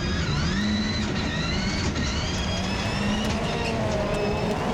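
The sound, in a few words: rallycross race cars driving on the track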